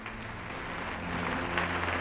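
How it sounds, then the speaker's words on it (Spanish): Around two thousand council fathers and cardinals at the Second Vatican Council break into applause, a dense, steady roar of clapping that swells slightly toward the end and sounds like an archival recording. "Los 2000 padres conciliares aplauden rompiendo filas junto a los cardenales disidentes."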